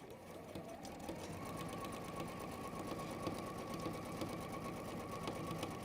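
A domestic sewing machine stitching fabric with a strained, struggling needle, its fast, even mechanical chatter running steadily and fairly close, with a slight rise in pitch after the first second.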